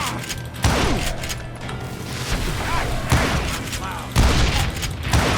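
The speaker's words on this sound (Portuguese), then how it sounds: "que arma esse cara tá usando, meu? É uma 12, eu acho." Twelve-gauge shotgun blasts in the video game Call of Juarez: Gunslinger, three heavy booming shots spaced a couple of seconds apart over a continuous busy game din.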